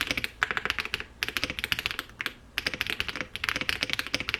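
Typing on a MonsGeek M1 V5 mechanical keyboard fitted with Akko mirror switches: close, crisp clusters of rapid keystrokes in bursts with brief pauses, heard alone.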